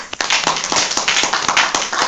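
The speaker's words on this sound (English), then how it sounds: "So big round of applause." A crowd applauds with steady, dense clapping that carries on throughout, fairly loud and close.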